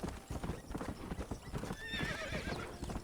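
Horse hooves clip-clop steadily in the Red Dead video game while a horse whinnies and neighs partway through, all close and fairly loud, with faint talk in the background.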